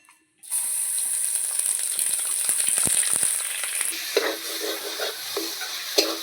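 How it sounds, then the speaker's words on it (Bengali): A sudden burst of hissing sizzle starts as coconut paste hits hot mustard oil in a wok, then settles into continuous frying with occasional stirring scrapes and clicks. "কড়াইতে পরিমাণ মতো সর্ষের তেল দিয়ে এবার নারকেল বাটাটাকে দিয়ে দিতে হবে"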